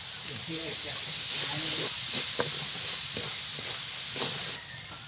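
Ground ginger, onion and garlic pastes sizzle in a hot pan, a steady hiss with a few soft stirring scrapes underneath, moderately close.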